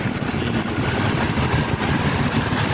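A motorcycle engine running in Manila traffic, a loud, steady low rumble and whir with dense road noise around it, close and continuous without speech.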